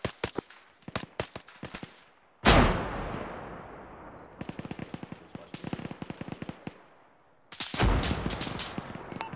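Loud gunfire rings out during a Task Force Viper engagement in a Robin Sage special forces exercise: sharp single shots and rapid bursts, plus two heavy booming blasts that fade slowly, with voices heard in between.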